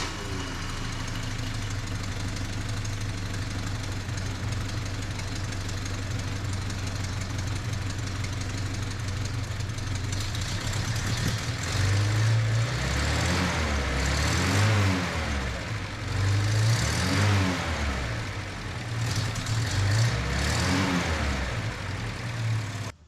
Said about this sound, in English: And let's start the truck